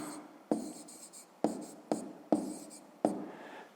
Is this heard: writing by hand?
yes